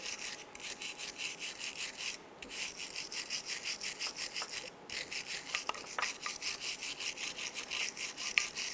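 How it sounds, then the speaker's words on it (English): Bristle brush scrubbing rust and scale off the front brake parts of a 2008-2013 Nissan Rogue, a quick, regular back-and-forth scratching rasp, close and steady with a couple of brief pauses. "use a bristle brush. I'm going to clean these here. You want to get any rust or scaly material out of the way."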